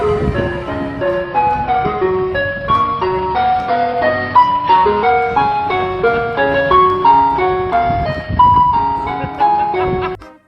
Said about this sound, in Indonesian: ada mobil es krim teman-teman